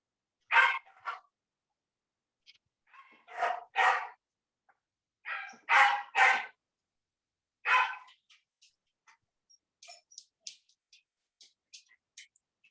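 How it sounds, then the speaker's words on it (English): A dog barks in short bursts, several single and double yips spaced irregularly, fairly close, with faint scattered clicks and quiet gaps between, heard in the background of a classroom lesson. "who has that dog?"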